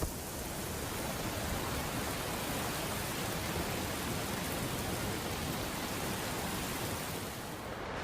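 Cold rain falls steadily on Queimada Grande, a rocky island off the Brazilian coast. It makes a dense, even hiss that stays constant throughout and fades slightly at the very end.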